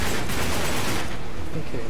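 Uncharted 3 multiplayer gunfire, a short dense volley of shots filling the moment, loud and close, with the roar thinning slightly toward the end.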